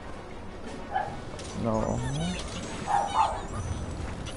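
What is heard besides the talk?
dog barking in the video game Rayman Legends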